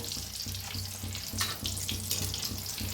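Vada fry in hot oil over a medium gas flame, turned to brown both sides, giving a loud, continuous close-up sizzle with bubbling crackle.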